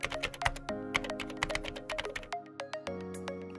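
Computer keyboard typing a folder name, a quick irregular run of crisp close key taps with a few louder thumps, about twenty strokes in under four seconds, with no speech.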